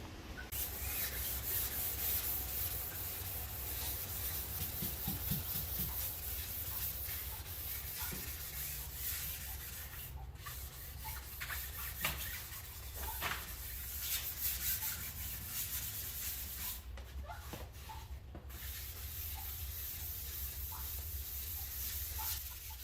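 Primer being block sanded with 600-grit wet sandpaper, a continuous close rubbing swish with a few brief gaps and small knocks, no talk.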